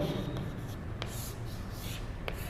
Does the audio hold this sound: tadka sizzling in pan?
no